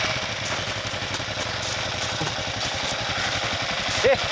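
A motorcycle engine idles and runs steadily out in the snow, a loud, continuous rough putter close by with a slight rise in revs near the end.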